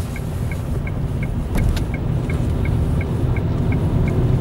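Cars queued in slow traffic on a Tallinn street before Christmas, a steady low engine rumble and hum close by, with a faint regular ticking like a turn signal running through it.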